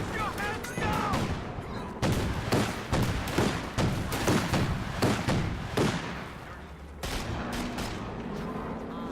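Battlefield gunfire in a strategy video game: repeated volleys of rifle and heavier shots crack out at an irregular rhythm across the whole stretch, with radio-style voices and distant rumble mixed in.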